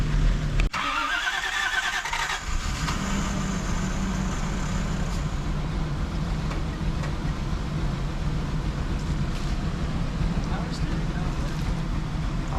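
An abandoned Toyota Supra sports car, unrun for 12 years, cranks and catches, its engine then settling into a loud, steady, slightly rough idle that continues close by, with faint voices underneath.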